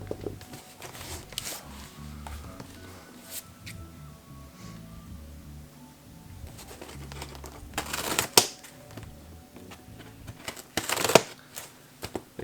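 Packing tape on a large cardboard box is cut and peeled, with scattered scratchy crackles and a couple of louder ripping bursts near the end, close by and without talking.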